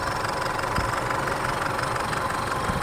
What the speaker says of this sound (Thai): เสียงเครื่องยนต์ก็นิ่มเลยนะครับนิ่งๆเลย